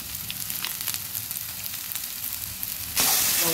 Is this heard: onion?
yes